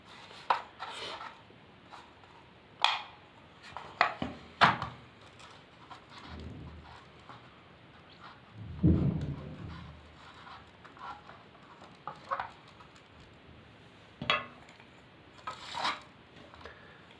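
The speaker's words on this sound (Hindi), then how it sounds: "यहाँ पर फिर हम स्क्रू लगा देंगे।" Screws are driven into a cover while an 18-watt SMD light is assembled: scattered close scraping, rasping and tapping sounds in irregular bursts with quiet gaps between them, with a longer grinding turn in the middle and no talking.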